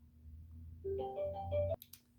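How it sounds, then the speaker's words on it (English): A phone ringtone plays as an incoming call arrives: a short run of clear electronic melody tones at moderate volume that stops abruptly, followed by a couple of faint clicks. "I just got a phone call randomly"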